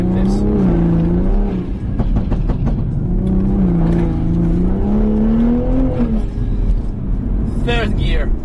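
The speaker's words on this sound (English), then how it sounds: "I got to drive it around the track, full stock, with the traction control off" A stock car driven around a race track with traction control off, its engine revving and rising and falling in pitch as it slides, with tire squeal near the end and someone talking over it.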